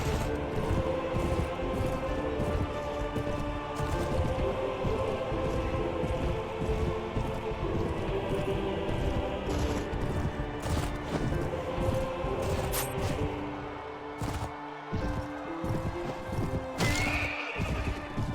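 Horse neighs and hooves clip-clop amid a dense, steady wash of battle noise and clatter in the video game Mount & Blade: Warband with the Floris mod.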